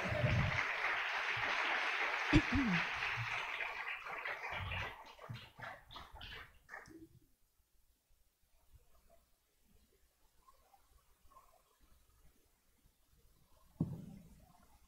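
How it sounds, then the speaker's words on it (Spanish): Applause from a church congregation, a thick burst of clapping at first that thins out and dies away by about halfway, leaving near silence with only faint scattered noises. "Denle un aplauso al Señor."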